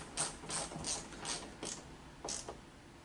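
Screws being tightened on a Honda Prelude rain guard by the side mirror, heard as a few faint, separate ratcheting clicks in an irregular rhythm, close by and quiet, with no talking.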